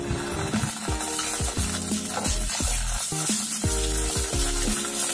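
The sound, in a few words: ginger paste and garlic frying and stirred in oil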